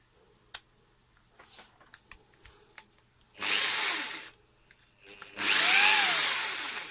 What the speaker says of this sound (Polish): to jest wiertarka udarowa mechaniczna, nie ma tutaj pneumatyki